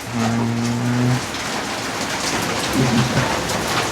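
Steady rain pours down during a thunderstorm, a dense close hiss of drops on surfaces with low rumbling thunder underneath, no voices.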